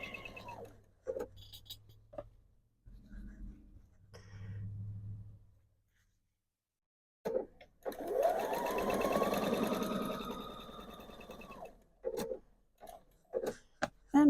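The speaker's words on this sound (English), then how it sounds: "So I'll quickly get these sewn together." A sewing machine stitches quilt strips together in short bursts, with a hum and steady rapid needle rattle, then pauses, then one longer run followed by clicks and handling noises.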